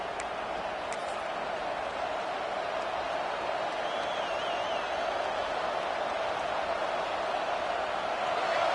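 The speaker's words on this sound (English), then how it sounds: "And this crowd coming to life here, trying to help the defense get a stop." A football stadium crowd roars continuously, a steady, dense wash of cheering held at an even, fairly distant level for the whole stretch, with no talk audible above it.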